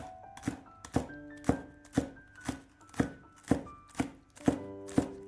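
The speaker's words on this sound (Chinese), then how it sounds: "再准备几根小葱，切成葱花。" Spring onions are chopped into small pieces with a knife on a board, roughly ten sharp, regular strikes at a measured pace, up close over soft background music.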